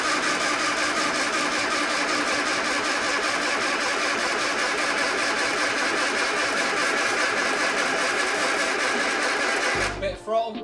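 An MG Midget engine, long abandoned, cranks over steadily on the starter without firing, a continuous rhythmic churning that runs loud and close before cutting off near the end.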